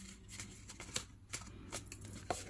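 Paper of a cookie gift box being creased and folded by hand, faint close rustles and soft papery taps in an uneven rhythm, no voices.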